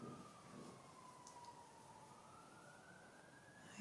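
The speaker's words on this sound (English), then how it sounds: "I apologize for the siren." A distant siren wails steadily in the background, its pitch sliding slowly down and then rising again, fairly faint against quiet ambient noise.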